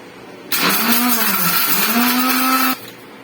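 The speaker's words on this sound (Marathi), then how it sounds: "मिक्सरला लावून घेऊया" A kitchen mixer grinder grinding chutney whirs loudly for about two seconds, its motor pitch dipping then rising, starting and stopping abruptly.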